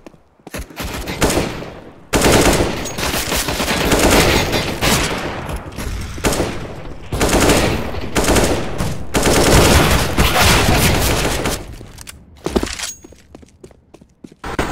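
Sustained bursts of rapid gunfire from CS:GO matches, loud and dense with repeated volleys and brief pauses, fading to scattered shots near the end.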